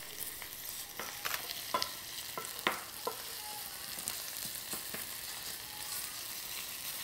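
Shallots fry gently in a pan, a soft continuous sizzle dotted with small sharp pops and crackles scattered irregularly, quiet and close, with no talking.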